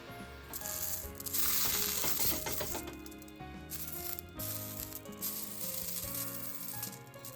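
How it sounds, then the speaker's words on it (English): Edamame browns in a hot pan over medium-high heat with a continuous crackling sizzle, rising briefly louder with scattered pops and crackles, faint music underneath. "Once the pan is heated, I add edamame. And I spread edamame through the pan to brown them evenly."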